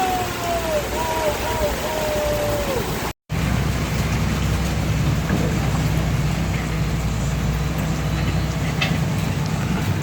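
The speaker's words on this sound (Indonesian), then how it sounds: "Kondisi saat ini masih hujan" Heavy rain falls with strong wind in a South Tapanuli village, a dense, steady hiss that goes on throughout, broken by one brief dropout, with a faint gliding tone and muffled voice-like sounds early on.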